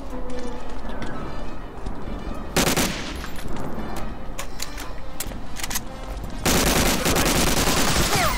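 MG42 machine gun fire in Medal of Honor: Allied Assault, rapid sustained bursts rattling loud and close, with heavier volleys near the start and end amid continuous battle noise.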